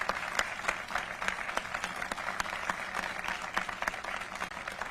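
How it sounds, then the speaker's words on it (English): Outdoor audience at a Native American Heritage event applauds a song rendition, a steady patter of claps at moderate level running the whole time, with no talk over it. "How about a round of applause for him?"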